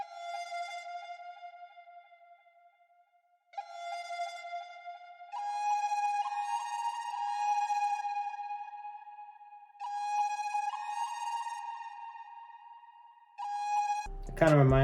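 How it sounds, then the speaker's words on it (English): Ethnic-style flute run from an FL Studio trap beat, breathy sustained notes with quick bends and trills in several phrases separated by brief pauses, clear and close, ending in a sudden low burst. "And then I also added this flute run, which is very popular in a lot of current beats today."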